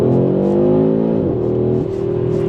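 A 2025 Audi RS3 facelift's turbocharged engine pulls hard under acceleration, a loud, steady rising drone that shifts briefly mid-clip, heard close from inside the cabin without speech.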